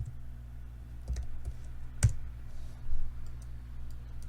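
A computer keyboard is tapped to enter a short command, giving a handful of distinct clicks close by, with one sharper keystroke near the middle, then quiet.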